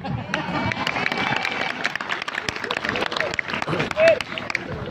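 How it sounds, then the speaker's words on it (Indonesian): A few people in a mosque or religious gathering audience give sparse, scattered claps, fairly close and uneven in rhythm, with voices and background murmur underneath and one brief tonal blip near the end. "cuma 3 orang yang tepuk tangan"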